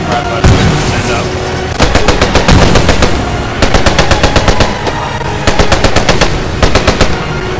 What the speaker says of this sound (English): These shots are coming at us.